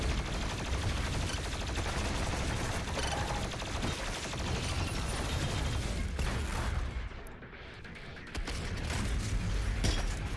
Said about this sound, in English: I'm gonna use a plasma ammo real quick.